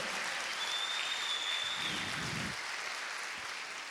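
Church congregation applauding in praise, a steady wash of clapping that holds at an even level for the full stretch, with a faint high tone running through the first half.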